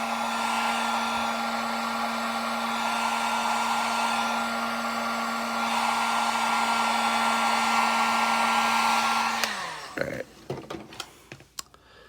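Hair dryer blowing steadily for about nine seconds as it heats the arm of a Four Horsemen Figura Obscura Headless Horseman action figure, then switching off, followed by light clicks and handling noises.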